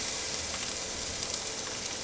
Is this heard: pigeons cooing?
no